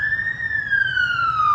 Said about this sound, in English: Yeah, it's a fire engine.